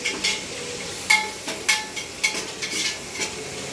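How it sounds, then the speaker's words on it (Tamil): Vegetables for chicken biryani frying and sizzling in a pan, with a steady hiss broken by repeated scrapes and clinks of a ladle stirring against the metal, close and fairly quiet. "காய் வந்து நல்லா பொரிஞ்சு ப்ரௌன் கலரில் வரணும்"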